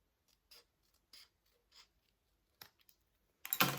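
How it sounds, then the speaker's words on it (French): Scissors snip paper at an angle for a sea-themed scrapbook cascade card, a run of short quiet crisp cuts spaced apart, ending in a louder rustling burst of paper handling. "vous voyez, je coupe un peu en biais"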